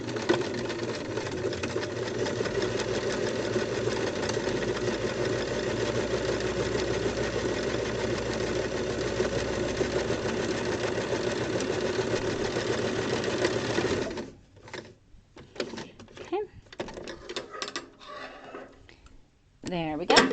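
A sewing machine stitches a bag strap and grab handle in a fast, steady, loud mechanical run for about fourteen seconds. It then stops and gives way to faint handling noises.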